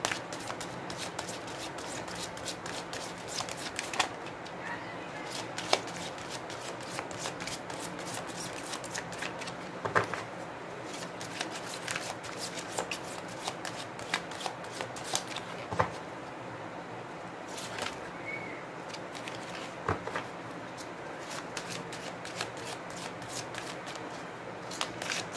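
Tarot cards are shuffled continuously at close range, a dense rapid patter of riffling and flicking that keeps going for the whole stretch, soft and with no voices.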